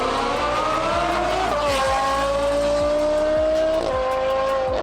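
Loud performance car exhaust, a Lamborghini-type supercar system, droning steadily while driving, with tonal shifts as gears change and the engine note rises and drops.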